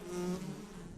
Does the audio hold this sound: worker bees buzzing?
yes